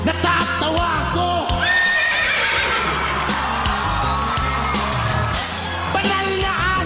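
A voice mimics a horse's whinny, loud and shrill with quivering rises and falls, over a lively backdrop of crowd noise and music.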